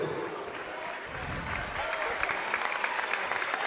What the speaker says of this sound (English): Ramos getting a nice round of applause, checking out